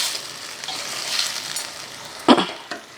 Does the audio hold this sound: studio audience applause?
no